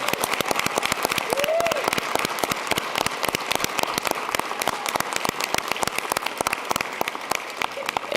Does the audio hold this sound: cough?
no